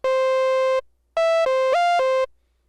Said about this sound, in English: It's pretty much a saw wave meets a sine wave, and it sounds a little something like this.